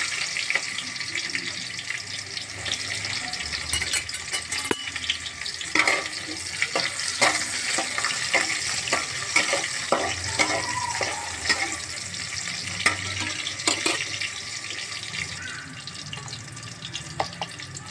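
Chili, curry leaves and onion fry hard in a generous amount of oil in a pan for a fish curry, giving a steady crackling sizzle with scattered sharp pops and stirring clicks and no voices.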